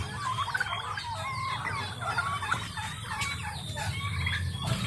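Roosters fighting in a backyard farm, with overlapping crowing, clucking and agitated squawks from several fowl at close to moderate distance over a constant low background rumble.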